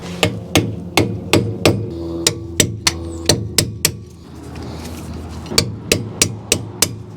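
A hammer taps a dust cap onto the wheel hub of a 2008 Ford Ranger that has a replaced junkyard spindle, giving close, sharp metallic knocks in a steady series of about twenty, with a brief pause partway through and no talking.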